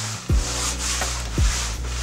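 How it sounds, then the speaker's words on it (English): A winter coat rustles and swishes as the fabric rubs, two sharp brushing bursts with a low steady rumble between them, close and fairly quiet. "This is the noise you'll get with a coat."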